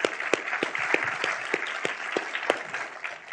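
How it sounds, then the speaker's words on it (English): A round of applause from an audience at a speech event, many hands clapping in a full, steady burst with a few louder individual claps standing out on top. "join me in a round of applause for Matt."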